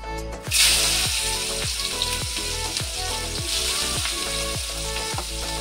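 Onions frying in hot oil in a pan for an egg and potato curry: a dense, continuous sizzle that jumps up abruptly as they hit the oil, with rhythmic scraping strokes of stirring underneath, close and loud.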